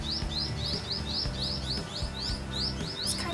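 Small birds chirp over and over in a quick, regular series of bright tweets, nearby and clear against a low background rumble, in a sunny garden.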